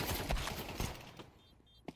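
AK rifle gunfire in a video game, a quick burst of shots under a busy, muffled game mix that fades out, followed by a single faint crack near the end.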